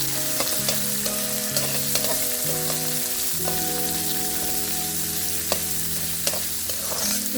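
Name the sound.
onion and curry leaves frying in tempering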